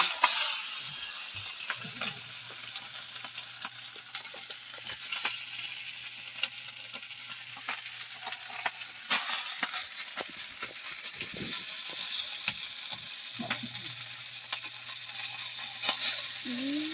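Rice stir-fried in a hot pan, a steady sizzle and crackle with scraping stirs and occasional clacks of the utensil, close and continuous, with a low hum in parts.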